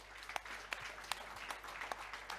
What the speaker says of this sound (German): Ein Applaus, ein Willkommensapplaus für Professor Dr. Dirk Messner